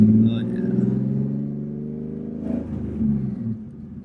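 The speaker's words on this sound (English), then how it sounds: "We're going for a drive right now." A turbocharged BMW E36 accelerating on a drive, a deep engine drone heard from inside the car that rises and falls in pitch through gear changes, with voices briefly talking over it.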